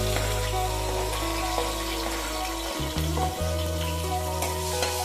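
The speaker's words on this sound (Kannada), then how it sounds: "ಇದಾದ ನಂತರ ಹೆಚ್ಚಿರುವ ಈರುಳ್ಳಿ ಜೊತೆಗೆ ಹಸಿಮೆಣಸಿನಕಾಯನ್ನ ಈ ರೀತಿ ಹಾಕಬೇಕು." Chopped onion and green chillies go into hot oil for a South Indian tomato onion gojju, giving a steady close sizzle with a thud partway through as they land, then continued frying crackle.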